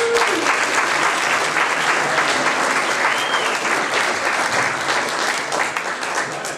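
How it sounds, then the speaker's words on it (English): An audience at an in-home Valentine's concert of Celtic music claps for a guest singer in a steady, close burst of applause that fades slightly toward the end. "Please give a round of applause for Pam McDermott."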